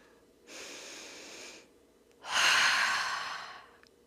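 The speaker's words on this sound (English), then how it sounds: "Let's take a few deep breaths together." Two deep, slow breaths taken together as part of a guided workshop, a soft airy exhale followed after a pause by a louder, longer breath out, close and alone without speech.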